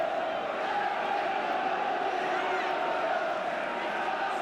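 Football crowd at the Kop end of the ground during a Bradford City match, a dense continuous roar of many voices holding steady and loud throughout, with shouts blending into the wash of noise.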